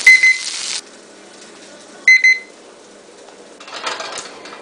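Two short bursts of high electronic beeping, a couple seconds apart, from an oven timer, followed by quiet kitchen rustling.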